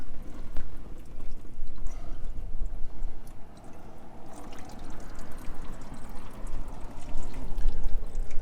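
Coolant pours steadily from a Jeep TJ radiator into a drain pan, a continuous wet splashing and trickling that holds close and fairly loud without a break.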